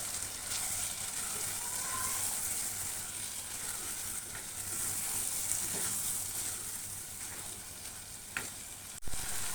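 Black pepper and cumin paste frying in hot oil for a Bengali lotpoti dish, a steady close sizzle with occasional stirring scrapes and small pops, no voices.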